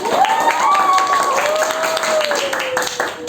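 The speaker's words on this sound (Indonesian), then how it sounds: "Kalau gitu biar semangat, kasih tepuk tangannya dong." A class of students claps together during a school lesson on Serimpi dance, a steady spatter of hands close by with voices and a faint tone rising above it.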